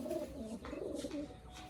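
Soft, low cooing from a Madrasi show pigeon repeats in throaty rolling phrases, close by, with no talking.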